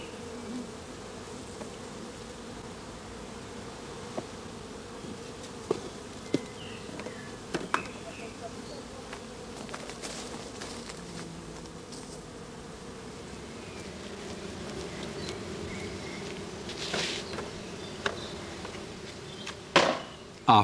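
A honeybee swarm in a swarm box hums around a suspended queen cage, a soft, steady, even buzz with a few faint clicks and knocks scattered through.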